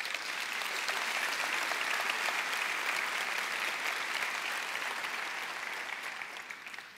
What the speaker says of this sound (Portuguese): Vamos dar uma salva de palmas para o Robson.